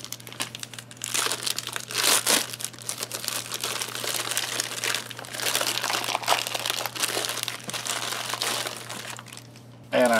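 Plastic MRE ration pouch from an Ameriqual Menu 18 beef ravioli meal being torn and pulled open, a steady close crinkling and crackling that runs for about ten seconds with no talk.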